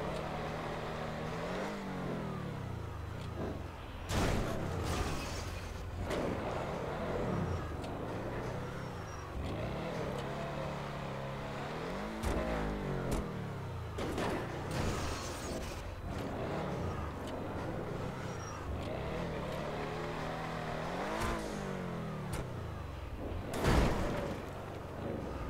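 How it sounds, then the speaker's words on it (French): Car engine in GTA 5 revving and accelerating repeatedly, with rising pitch sweeps and gear changes throughout, loud and continuous, with occasional impacts or thuds. "J'accélère."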